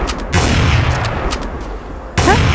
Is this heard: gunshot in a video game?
yes